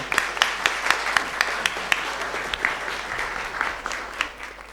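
A festive audience at a National Youth Day celebration claps to welcome a singer to the stage: steady, dense applause with sharp individual claps popping out, filling the hall throughout.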